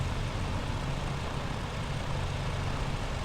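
A Britten-Norman Islander taxis on the runway, its engine and propellers putting out a steady, loud, low drone without a break.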